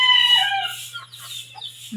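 Chickens cluck in a coop, a short close burst of high fowl calls fading over two seconds against a low steady hum.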